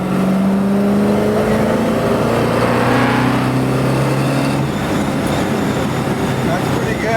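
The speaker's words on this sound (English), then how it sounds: "So what kind of mufflers are those? Those sound really nice." A 1967 Mustang Fastback Shelby tribute with Walker mufflers rumbles steadily from the inside on a ride, a loud continuous droning exhaust note with shifting engine tones and road noise throughout.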